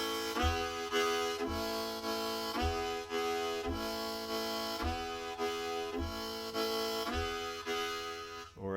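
Harmonica chords alternate between blow and draw, with the player shifting vowel mouth shapes to color the tone; about eight sustained, ringing chords follow in a steady rhythm, close and clear with no talking.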